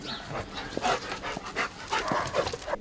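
A dog pants rapidly and rhythmically close to the listener, a steady series of breathy huffs with faint whimpery edges, loud and continuous throughout.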